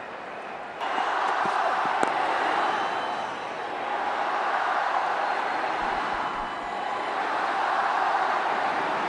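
A crowd at a cricket stadium during an India versus New Zealand Test match creates a broad, distant roar that swells and eases across the stretch, with a commentator's voice talking over it.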